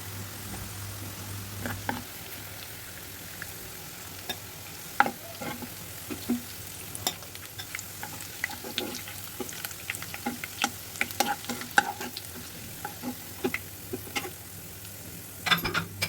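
Shrimp frying in a pan of oil already used to brown onions, giving a continuous soft sizzle broken by frequent clinks and scrapes of a spatula stirring, with no one talking.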